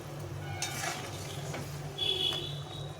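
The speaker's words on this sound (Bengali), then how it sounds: "জলটা ফুটে গেছে, এখন মাছগুলো ভেজে রেখেছিলাম, মাছগুলো দিয়ে দেবো।" Fried singhi fish goes into a pot of boiling curry broth and gets stirred, giving a steady low bubbling simmer with soft scraping and stirring clatter, a few brief clinks, and a brighter hiss toward the end.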